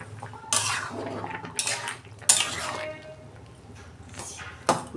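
A metal lid lifted off a pot of taro leaves boiling in salted water, sharp clanks and scrapes of metal among quiet wet bubbling and dripping, close and clear.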